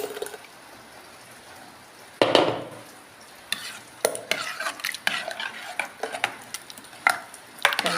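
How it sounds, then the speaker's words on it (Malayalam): Ground coconut paste being stirred into mashed papaya curry in a pot, with uneven scraping and clinking of a spoon against the vessel, bursts of stirring after a quiet start, faint sizzle beneath, no talk. "ഇതിലേക്ക് ഒഴിച്ചിട്ട് അരപ്പിനെ ഒഴിച്ചിട്ടൊന്ന് ചൂടാക്കി എടുക്കണം."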